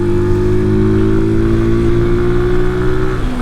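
A Brixton Rayburn 125 motorcycle engine runs loud and close, holding a steady, throbbing note at moderately raised revs that eases slightly near the end.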